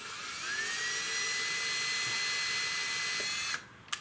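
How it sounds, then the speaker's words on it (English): A power drill runs a bolt into the rear bumper splitter of a VW Golf GTI Mk6, holding a loud, steady high-pitched whine for about three and a half seconds before stopping abruptly, followed by a short click. "When you drill in the bolts in the hole, it's gonna make it a lot easier for you when you're putting it on."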